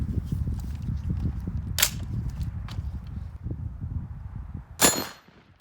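Rifle bullets, 5.56 XM193 fired from short 10.3 and 14.5 inch barrels, strike a steel target with two sharp metallic clangs about three seconds apart, heard over a steady low rumble of wind or background noise.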